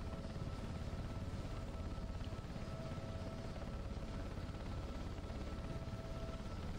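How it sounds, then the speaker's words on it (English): Steady, loud rotor and turbine drone of a Sea King helicopter setting down on landing at Belfast, a continuous dense roar with a faint whine running throughout and no voices. "Should put helicopters down gently, you shouldn't bounce them."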